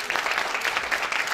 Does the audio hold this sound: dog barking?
no